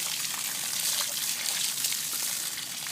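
Running hose water spraying through a Harley-Davidson Fatboy 2004 motorcycle air filter from the inside out, a steady close hiss and splatter of water with no talking.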